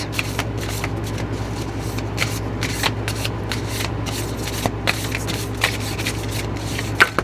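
A deck of oracle cards being shuffled up close, a steady papery riffle with sharp flicks and snaps recurring every second or so over a low background hum, with no voices.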